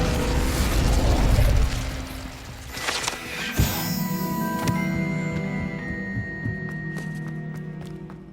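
A fire spell cast in Hogwarts Legacy erupts in a loud whoosh and burst, followed by a sharp crack and ringing, shimmering magical tones that trail off over several seconds.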